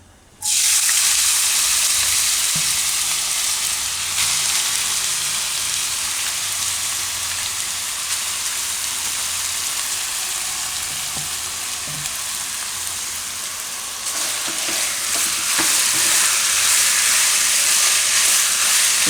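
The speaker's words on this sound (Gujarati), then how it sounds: "તેલ આપણું ગરમ થઈ ગયું છે અને બટેટા આપણે આ રીતે કાઢી લીધા છે તો આ બટેટાને આપણે તેલમાં નાખીશું" Cut potatoes hit hot oil in a home kitchen pan for a Gujarati onion-and-potato curry, bursting into a loud, continuous sizzle that crackles steadily and swells again near the end, with no talking.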